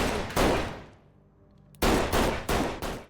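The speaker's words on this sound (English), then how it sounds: "hearing the gunshots" Several loud gunshots go off in a TV drama scene: one blast, then a pause, then three quick shots in a row, each with a short echoing tail.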